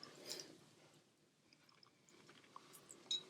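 Someone chews a bite of picadillo, a seasoned ground-meat dish, served over garlic rice. Soft, close, wet chewing runs steadily throughout with a few small crunchy clicks, and there is no talk.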